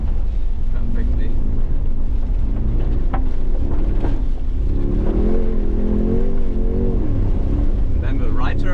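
A 2025 Mercedes-AMG G 63 rally driving through mud, its engine droning and revving with rising and falling pitch under heavy wind buffeting from inside the cabin.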